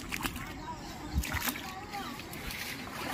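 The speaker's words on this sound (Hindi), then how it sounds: "मैं फाइनली पानी में जा रहा हूँ।" Someone wading into a flooded river stirs up steady sloshing and splashing water close by, with uneven churning and a few louder splashes, as outdoor noise and voices mix in the background.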